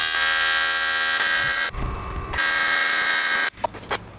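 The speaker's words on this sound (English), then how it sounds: "I'm gonna tack on the first little bung" A tack weld joining a small bung onto a turbo exhaust, heard as a loud steady electric buzz from the welder that stops briefly and then resumes, ending in a few clicks and clanks.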